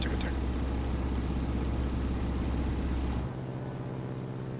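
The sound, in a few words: Boeing Stearman biplane engine in flight simulator video game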